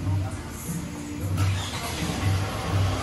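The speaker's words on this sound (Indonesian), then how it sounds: "Coba di starter" Engine of a Toyota Vellfire/Alphard van cranked on its starter, a steady low rumble with rhythmic mid-low pulses running for the whole stretch.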